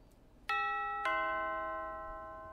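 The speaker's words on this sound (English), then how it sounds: "Nice doorbell. I've seen better." Doorbell rung at a house door in The Last Time video game: two clear electronic chimes about half a second apart, each ringing out and slowly decaying, loud and close against a quiet background.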